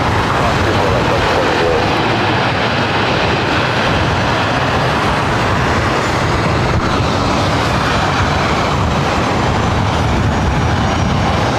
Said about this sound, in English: This is Southwest Airlines 2979 coming in from Oakland on 737-700.